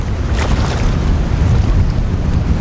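Strong wind on a road in Jackson, Michigan roars and buffets the microphone steadily, a loud close rushing noise with no voices.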